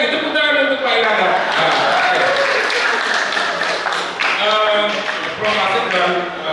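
At an Indonesian election seminar, an audience applauds a speaker, the clapping continuous and loud, blended with tonal music throughout.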